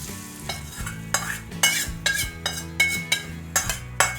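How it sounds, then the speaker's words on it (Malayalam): Chili powder is fried in hot oil in a small pan while a spoon stirs it, a steady soft sizzle broken by regular metallic scrapes and clinks, close and without talking. "ഇനി ഇതൊന്ന് മുളക് പൊടി ഒന്ന് മൂപ്പിച്ചിട്ട് നമുക്കിത് ഈ കറിയുടെ മീതെ ഒഴിച്ചു കൊടുക്കാം."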